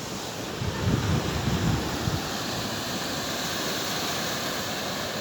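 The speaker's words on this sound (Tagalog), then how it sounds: "Ang lalaki ng bato, lalaki ng alon." Big ocean waves crash and roll against a rocky shore, a dense continuous roar with a louder surge early on, mixed with wind rumble on the microphone.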